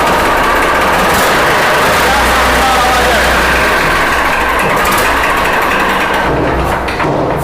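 A tractor engine idles loudly and steadily up close at a tractor market in Shamli, India, with a constant low rumble and rattling, chugging texture throughout.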